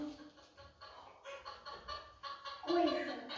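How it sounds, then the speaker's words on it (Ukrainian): A hen clucks in short, irregular bursts that grow louder and busier toward the end, with no other sounds around it. "Це курка кудакче"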